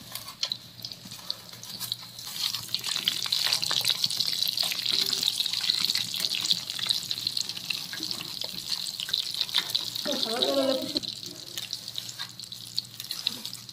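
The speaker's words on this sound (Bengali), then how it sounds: "একসঙ্গে 3টে ভাজবো আমি।" Chicken potato drumsticks, three at once, frying in hot oil, giving a steady close sizzle that hisses evenly throughout without any talk.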